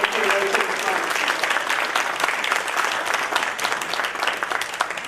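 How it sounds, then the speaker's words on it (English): An audience claps for Dr. Freeman as she walks to the front at a women's recognition event, loud, dense, sustained applause filling the room, with faint voices mixed in. "Let's give her a round of applause as she makes her way to the front."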